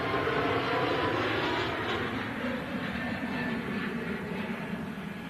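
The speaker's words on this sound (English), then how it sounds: "Pegasus Neo. About to rotate from 23 right here at Manchester." A Pegasus Neo airliner takes off from runway 23 at Manchester Airport, giving a continuous broad engine roar that stays loud and steady, then eases slightly toward the end.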